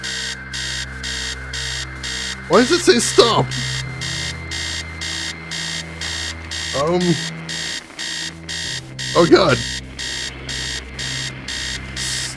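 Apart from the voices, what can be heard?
alarm clock blaring in video game Stories Untold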